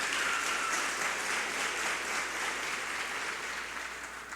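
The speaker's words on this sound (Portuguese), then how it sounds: "aplauda bem forte o nome de Jesus." A church congregation claps loudly in praise at a Christian service, a dense, steady wash of applause that fills the room and fades slightly toward the end.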